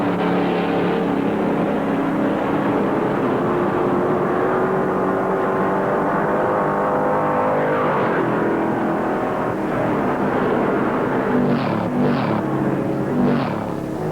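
Stock cars racing at the 1964 Daytona 500, a continuous loud engine drone with steady pitch and slight swells as cars pass, with no talk over it.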